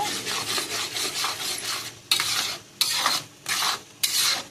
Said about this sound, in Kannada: ಆ ರೀತಿ ಹಾಕಿ ಚೆನ್ನಾಗಿ ಫ್ರೈ ಮಾಡುವ